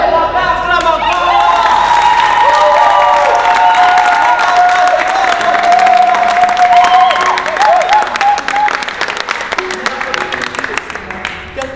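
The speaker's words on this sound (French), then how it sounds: "Acclame encore." A church congregation applauds and cheers during a worship service, sustained loud clapping and shouts with a voice carrying over the crowd, fading toward the end.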